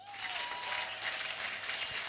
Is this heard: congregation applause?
yes